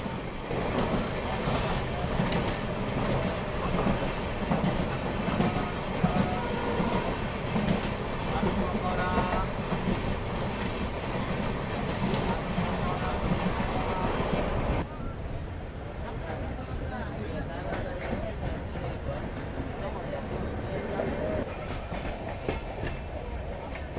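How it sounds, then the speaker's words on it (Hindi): Long Kanyakumari-Dibrugarh Vivek Express passenger train rolling past on the line toward Dimapur, Nagaland, a loud steady rumble with clickety-clack wheel rhythm that drops to a quieter, more distant roll partway through, with faint voices underneath. "और ये क्रॉस हो रही है कन्याकुमारी डिब्रूगढ़ विवेक एक्सप्रेस, जो कि बहुत ही लंबी ट्रेन है"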